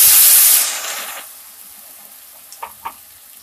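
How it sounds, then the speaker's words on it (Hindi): A glass of water poured into a hot pan of boroi (jujube) chutney bursts into a loud hissing sizzle that fades within a second, leaving quiet bubbling with a few small pops. "हम एक ग्लास पानी ऐड करते हैं।"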